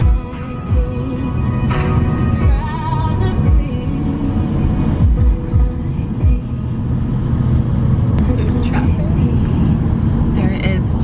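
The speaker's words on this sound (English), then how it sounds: "Traffic." Road traffic rumbles along, with cars and heavier vehicles passing in a continuous low drone beneath a person talking throughout.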